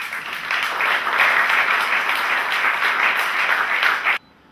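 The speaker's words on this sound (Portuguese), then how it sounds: "E por isso pedia para o Dr. Fernando Costa uma salva de palmas." A hall audience at a political event in Loures claps in a steady, loud burst of applause that carries on for about four seconds, then stops abruptly.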